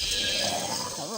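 A sheep bleats in the crafting game Craft The World, a short wavering cry heard through steady game music.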